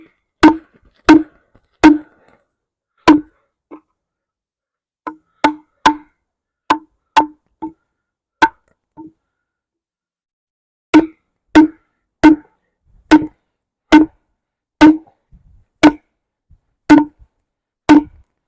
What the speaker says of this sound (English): I'm going to do some more batoning because it was way more effective than the chopping